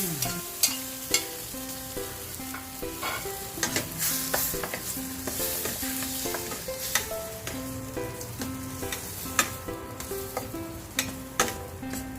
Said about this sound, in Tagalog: Next natin ilalagay yung ating chicken.